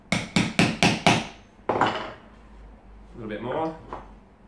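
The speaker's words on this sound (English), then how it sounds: "Bring your rod or whatever 16 mil tube you're gonna use over the top and just hammer it in." A 16 mm tube rod is hammered into a balloon base plate on a bench, making five sharp, evenly spaced strikes, then one more hit, followed by a voice speaking briefly.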